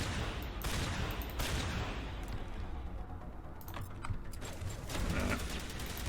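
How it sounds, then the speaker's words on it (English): Shotgun fire in the video game Mass Effect, sharp repeated blasts over a dense, noisy background of combat, with a few sudden bursts standing out. "On normal, the shotgun does a lot of damage still, even from that range"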